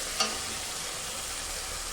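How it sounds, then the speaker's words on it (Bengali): Spices frying in a little oil in a pan, a soft steady sizzle with one brief clink of a utensil near the start, no voices. "মশলা দিয়ে একটু হালকা তেলটা ছাড়ছে, তেল ছাড়লে পরে আমি ডিম আর আলুটাকে দিয়ে দেবো।"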